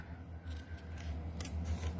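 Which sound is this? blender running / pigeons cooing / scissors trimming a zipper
scissors trimming a zipper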